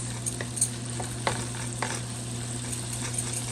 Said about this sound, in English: the shrimp doesn't take that long to cook